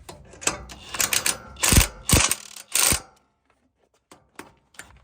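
An impact wrench drives bolts while a hitch mount for a 12000 lb Badland ZXR winch is installed, with several close, loud rattling bursts followed by faint clicks and quiet.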